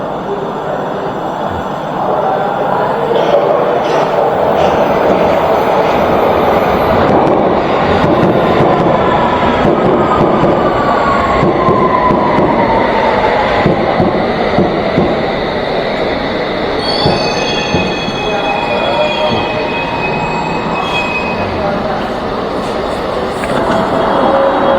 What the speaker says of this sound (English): Okay, then train is approaching.